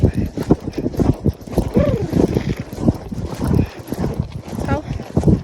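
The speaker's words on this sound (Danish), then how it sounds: "Vi rider bare lige skråt her." A ridden horse clip-clops along at a steady, close gait, hoofbeats mixed with wind buffeting the microphone while a rider talks over them.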